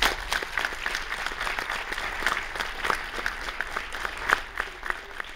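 Audience at a student organization meeting applauding the BSU group, a steady burst of clapping from many hands throughout, with scattered louder claps near the front.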